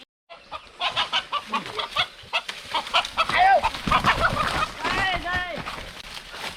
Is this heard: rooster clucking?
yes